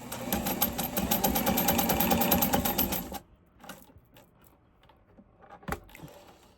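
A Fashion Mate 257 sewing machine, reported to have trouble with its zigzag stitch, runs in a fast steady whir for about three seconds, then stops, leaving faint handling clicks and a brief knock.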